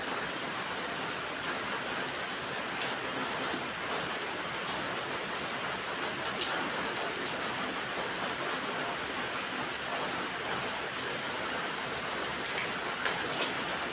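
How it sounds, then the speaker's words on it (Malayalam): Heavy rain falling in Kozhikode, a steady soft hiss of drops on surfaces throughout, with a couple of brief louder taps near the end and no voices. "നല്ല മഴയാണ്, കോഴിക്കോട് നല്ല മഴ കേട്ടോ"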